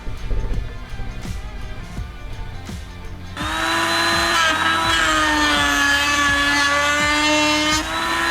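A power tool with a 5/8 cove bit cuts into a wooden Lee Enfield No1 Mk3 rifle handguard. Light knocks give way to a loud, steady, high-pitched whine that holds until the end.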